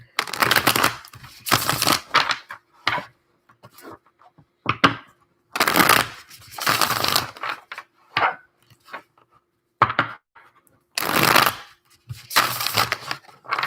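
Cards being shuffled in several quick riffling bursts separated by pauses, with small taps and ticks between them, close by.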